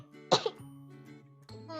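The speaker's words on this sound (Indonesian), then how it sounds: "batuk lagi." One sharp, close cough bursts out under quiet streamer background sounds during a livestream, followed by soft voice sounds.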